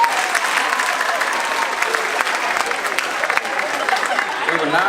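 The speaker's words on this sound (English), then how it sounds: "Can we give another round of applause to our models?" Audience applauding a fashion show's models at an NAACP Divine Nine event, a steady dense wash of clapping that holds evenly at full volume throughout with no pauses.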